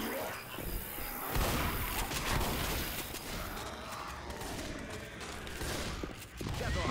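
Steady, dense gunfire from several weapons in the zombie shooter game Left 4 Dead, a near-continuous crackling barrage with bursts and crashes layered throughout.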